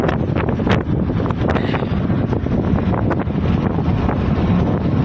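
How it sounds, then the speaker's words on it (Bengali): Strong wind gusting hard straight across the microphone outdoors, a loud, constant rumbling buffet that stays steady for the whole stretch with no voices. "কি হাওয়া।"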